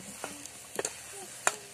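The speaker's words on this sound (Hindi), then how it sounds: "तो चलाते रहना है हमें इसको।" Aloo palak tamatar curry is stirred in a pan, giving soft, scattered scrapes and clicks of a spoon against metal over a faint sizzle.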